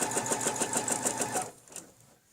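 A sewing machine stitches a quilt block guided by a ruler, its needle running in a fast, steady rhythmic chatter that slows and stops, with a faint clack afterward.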